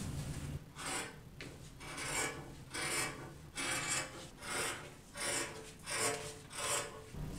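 Scissors or shears trim fabric pattern pieces for the front panel of a pair of pants, giving soft repeated rasping cuts in a steady rhythm, close and fairly quiet with no talk.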